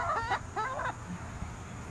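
A young rooster learning to crow gives two short, rough, strained calls in quick succession, followed by faint background noise.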